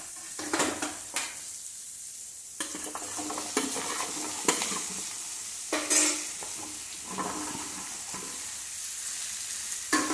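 Chopped yellow pumpkin is stirred into onions sautéing in a pan for olan, giving a steady sizzle broken by repeated scraping stirs close by.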